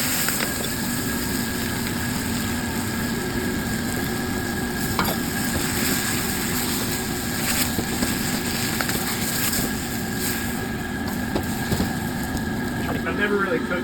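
Udon noodles with sauce stir-fry in a pan, giving a constant loud sizzle and bubbling hiss with occasional stirring scrapes, steady throughout.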